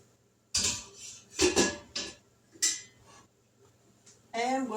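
Middle part of a metal fruit steamer set onto a stove, a few close, sharp metallic clanks and clinks in quick succession, with a voice speaking briefly at the end.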